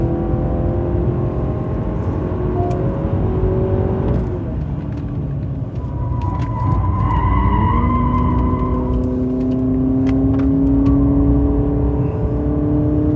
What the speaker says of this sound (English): Let me try and catch him with an SUV. This is a Honda, and it for sure can do that.